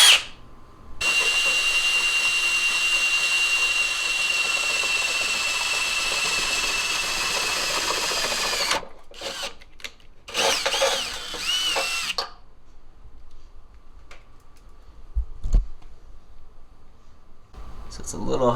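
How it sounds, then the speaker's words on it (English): A power drill bores a hole for a brace bar install on a 2015-or-later Subaru WRX, whining steadily and loudly for about eight seconds, then several shorter stop-start bursts follow before quiet stretches and a few faint clicks. "So I'm gonna go ahead and drill it out now."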